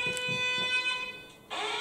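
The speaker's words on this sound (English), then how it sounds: "The fire alarm's just gone off." A fire alarm goes off indoors, a loud, steady electronic tone with a pulsing beep that dips briefly and then returns at full strength.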